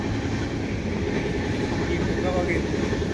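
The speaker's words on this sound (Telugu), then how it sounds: "తిరుమల పోతున్నాం. ట్రైన్లో ఉన్నాం." A continuous low rumble and rattle of a moving passenger train heard from inside the carriage, steady and close, with faint voices in the background.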